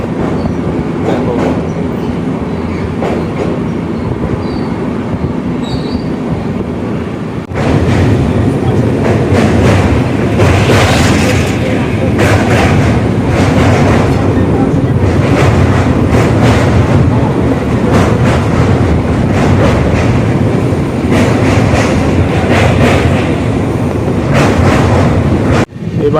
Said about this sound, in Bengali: এবার আমাদের যে ট্রেনের সাথে দেখা হতে চলেছে train number 22-896 Puri Howrah Vande Bharat express